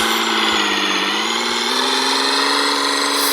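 An old diesel engine idles steadily and loudly, with a continuous rough rumble and vibration and a slight shift in pitch partway through; no voices are heard over it.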